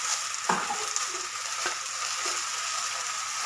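Oil sizzling steadily as food fries in a pan, a dense continuous hiss heard close and alone, with a couple of soft stirring knocks.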